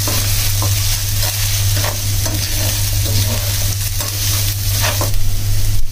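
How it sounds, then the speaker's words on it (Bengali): Carrots and other vegetables stir-fried in a pan: a loud, close, continuous sizzle with occasional scraping strokes of stirring, and a low steady hum underneath. "গাজর দিয়ে নেড়ে ছেড়ে নিয়েছি"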